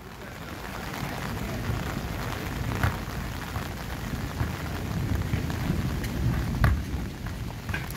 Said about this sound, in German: Oh, jetzt fängt es ja auch noch an zu regnen.